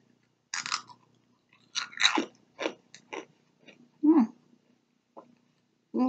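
Crunchy chewing of Goldfish crackers, Epic Crunch flavor, close to the mouth, with a string of sharp crisp bites and crunches separated by short quiet gaps.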